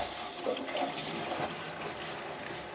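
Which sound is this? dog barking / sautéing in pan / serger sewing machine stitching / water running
water running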